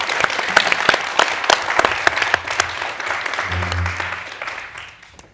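An audience at a climate-crisis discussion event breaks into applause, a burst of distinct nearby claps over a dense clapping wash that gradually thins and fades out.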